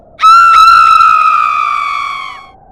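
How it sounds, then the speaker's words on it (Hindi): A woman's high, sustained horror-style scream as she catches fire, rising sharply then holding a long wavering note for over two seconds before fading, loud and alone. "जोर जोर से चीखने लगी"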